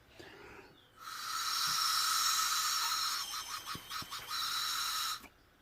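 Air hisses loudly and steadily from a leaking EGR valve on a Volvo 1.6 diesel, a close, sustained rush of about four seconds that briefly sputters and pulses before resuming and then stopping abruptly.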